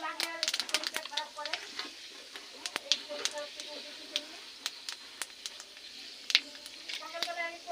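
Panch phoron seeds pop and crackle in hot oil in a kadai, sharp irregular spits and snaps over a soft sizzle, close and lively, with a voice talking faintly in between.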